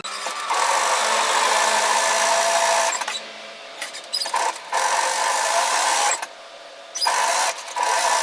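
Sewing machine running a line of stitching through an overlocked seam on a hoodie, a loud, fast, steady mechanical whir in several long bursts with short pauses between them, and no talk.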